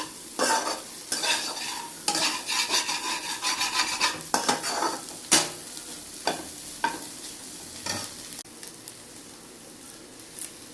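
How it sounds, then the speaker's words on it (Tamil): A spoon stirs an egg, fish and meal maker curry in a pan after coriander leaves go in, with close scraping strokes against the metal and light sizzling between them, irregular and fairly loud, no talking. "கொத்தமல்லி தழையை கிள்ளி போட்டுட்டு நல்லா கலக்கி விட்டுட்டு"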